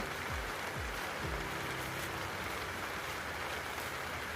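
Steady rain on a work site in South Korea, a dense broadband wash of drops beating on surfaces, constant and fairly loud across the whole stretch with a few low rumbles near the start.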